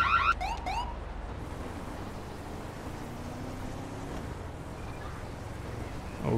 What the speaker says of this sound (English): We can hear that alarm going off.